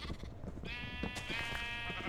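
Several sheep in a video game sheep pen bleat in quick succession, with one long wavering bleat standing out clearly over a busy background of game sounds.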